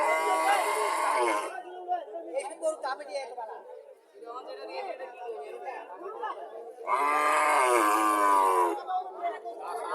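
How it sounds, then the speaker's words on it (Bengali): A Haryana cow and her calf moo loudly at a cattle market in Comilla, two long drawn-out calls at the start and near the end, with nearby chatter from people filling the gaps between them. "হরিয়ানা গাবিটা এটা ইন্ডিয়ান হরিয়ানা গাবি বাছুরটা বকনা বাছুর"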